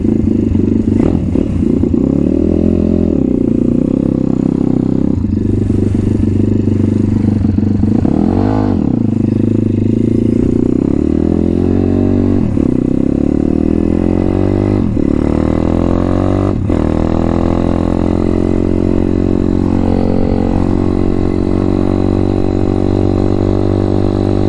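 An M2R RF160 road-legal pit bike runs loud and close, its single-cylinder engine buzzing with repeated throttle blips and rising, falling revs, mixed with some mechanical clatter as it rides.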